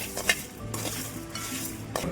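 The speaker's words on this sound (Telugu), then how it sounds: "ఇప్పుడు వీటిని మాడకుండా దోరగా ఫ్రై చేసుకోవాలి." Five dried red chillies stirred and dry-roasting in a pan with spices, close and alone: steady scraping of a spoon against the metal pan with soft crackling sizzle, punctuated by a few sharper clinks.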